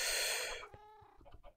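Chickens in the Minecraft video game, a short, faint clucking burst after a fading hiss, with a few soft clucks trailing off.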